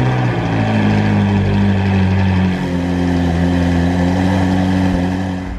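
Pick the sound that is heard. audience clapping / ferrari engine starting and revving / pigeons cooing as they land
ferrari engine starting and revving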